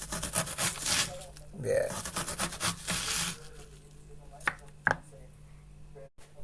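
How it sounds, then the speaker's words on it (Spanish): A knife slowly and finely chops an onion on a board, a run of close, soft repeated cuts mixed with talking, followed by quieter kitchen handling and a couple of isolated knocks. "la girás y empezás a cortar despacito, así."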